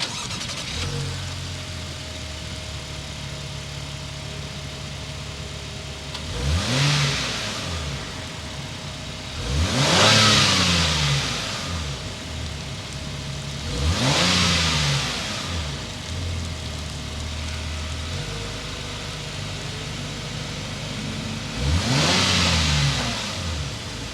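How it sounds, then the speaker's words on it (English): A 2022 Acura MDX Type S engine idles steadily, then revs sharply four times, each swell rising and falling with a throaty exhaust roar, heard from nearby. "We got to get inside and hear that exhaust note."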